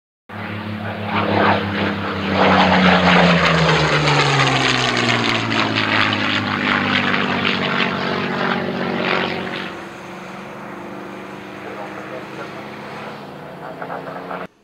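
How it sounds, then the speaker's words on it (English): A small air compressor drives an airbrush for painting a P-40F Warhawk scale model. Its steady, loud motor drone has a pitch that sags slowly, then settles into a quieter hum after about ten seconds. "Shut up, compressor."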